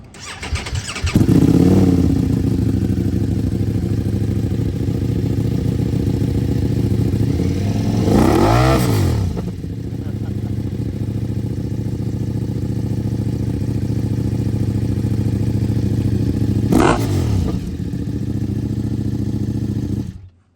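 A 2021 Ducati Multistrada V4S motorcycle's V4 engine fires up and settles into a loud, steady idle with a deep rumble, with a couple of brief revs partway through.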